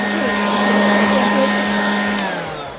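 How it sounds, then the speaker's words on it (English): A handheld leaf blower used for yard cleanup drones steadily and loud close by for about three seconds, its strong motor whine holding a constant pitch before easing slightly at the end. "we've got the blower here"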